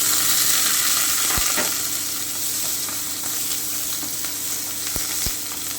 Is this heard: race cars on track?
no